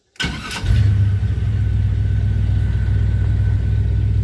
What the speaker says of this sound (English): Did you hear that starter? Man, it sounds so much better.